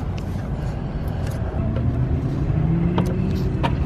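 A Honda Civic Si with a loosened PRL intake idles and then revs upward, the engine note climbing in a steady rising drone, close and fairly loud, with no talk over it.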